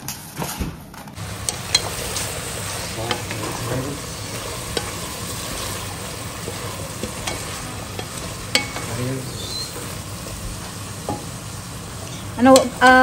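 Butter sizzles steadily in a pan during sautéing, a continuous frying hiss with occasional stirring scrapes and clinks, with faint voices now and then in the background.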